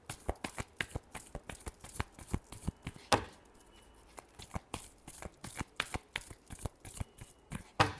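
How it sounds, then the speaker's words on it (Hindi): Tarot cards are shuffled by hand in a quiet room, a long run of crisp, irregular riffling slaps and flicks, close and fairly soft, with no talking. "last shuffle"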